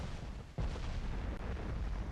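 A single deep boom of heavy naval gunfire with high-TNT shells in Ultimate Admiral: Dreadnoughts, a loud low blast that rolls on in a sustained rumble.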